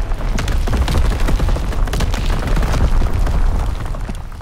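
Dense artillery barrage explosions in Call of Duty WWII multiplayer rumble continuously, a loud, deep wash of overlapping booms and blasts with no pause across the whole stretch.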